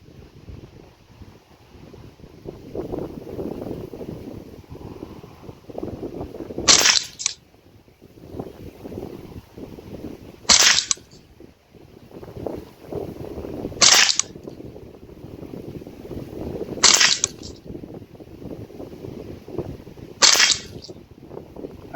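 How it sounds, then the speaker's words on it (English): Five sharp rifle shots fired at a steady spacing of roughly three to four seconds, each a loud close crack standing out over low outdoor background rumble and wind, with no talking. "All right, last 5-shot group out of each gun here."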